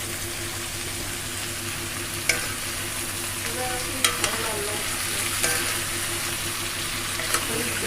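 Papaya and carrot pieces frying in a pan, a steady loud sizzle throughout with a few sharp clinks and scrapes of stirring now and then, and no voices.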